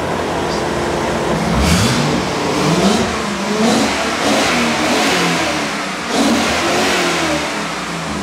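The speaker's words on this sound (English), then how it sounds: "I'll give it a little rev." C4 Corvette ZR1 engine revving while the car sits parked, several rising and falling throttle blips over a steady loud idle rumble, close and with no talking.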